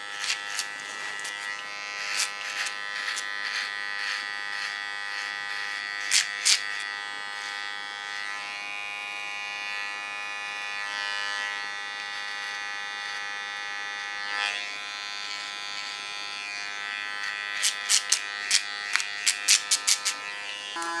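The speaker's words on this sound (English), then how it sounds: "This clipper is specially made for this kind of work." A hair clipper for contour work hums with a steady, bright electric buzz for the whole stretch, with occasional sharper ticks and clicks as it is worked close against the skin.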